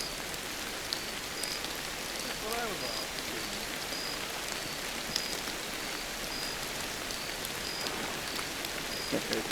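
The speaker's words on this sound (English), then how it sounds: "Rain's back." Steady video game rain pattering down with scattered drops, with a brief spoken remark and faint beeping tones over the rainfall.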